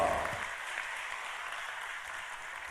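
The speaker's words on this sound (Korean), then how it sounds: "영광의 박수 올립니다." A church congregation applauds during a Sunday afternoon service, a steady wash of many hands clapping together that holds evenly for a few seconds in a large reverberant room.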